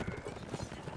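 Horse hooves clip-clop in a video game, a quick muffled run of rhythmic hoofbeats, fairly faint and close under a busy background.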